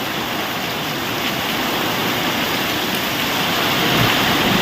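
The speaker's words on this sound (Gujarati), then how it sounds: "મુસળધાર વરસાદ હો ભાઈ આ સીઝન નો પહેલો વરસાદ આવો" Torrential rain lashing down in strong wind, the season's first heavy rainfall, a steady loud roar of broadband hiss that swells slightly near the end, with no one speaking.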